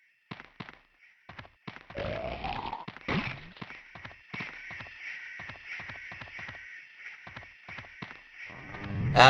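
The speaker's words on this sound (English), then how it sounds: "Fucking birds, man." Harsh crow-like caws from birds in the video game Shadowman's Wastelands level, a rapid series of sharp, repeated calls close by, with a louder burst at the very end.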